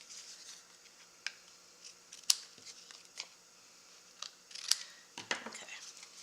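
Scissors trimming excess metallic foil ribbon for a card, with a series of soft snips and crinkly foil rustles close by, quiet overall with a few sharper cuts.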